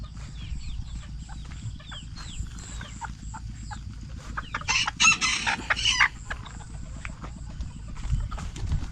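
Bantam chickens cluck and a rooster crows, with a burst of louder squawking midway, over steady low rumbling and scattered clatter nearby.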